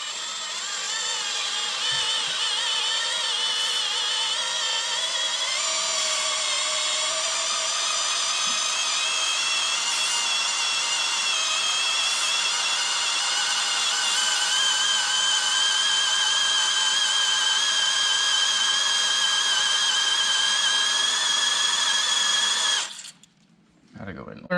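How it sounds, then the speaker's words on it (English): A power drill turns a lug nut reamer into a stripped lug nut, a loud, continuous high whine that runs steadily for over twenty seconds before cutting off abruptly near the end. "and we're just gonna start drilling."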